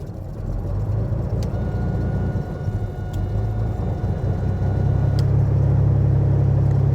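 A Cessna Turbo 206 piston engine cranks and starts up, a low rumble that builds and settles into a steadier drone toward the end, heard from inside the aircraft.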